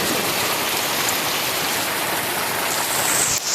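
Heavy rain pours down in a dense, unbroken roar, loud and close throughout with no voices.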